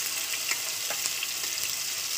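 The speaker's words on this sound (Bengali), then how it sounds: "এবার আমি এর উপরে যে পেঁয়াজ আর যে শুকনো লঙ্কাটা পেস্ট করেছিলাম সেটাকে দিয়ে দিচ্ছি" Onion and dried chili paste hits a hot pan with cumin and fries with a continuous bright sizzle, broken by a few soft stirring knocks.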